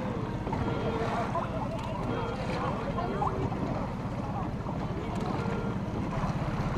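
Motorboat engine droning on Lake Iseo between Sulzano and Monte Isola, a steady low hum mixed with wind buffeting the microphone and lapping water, with people talking.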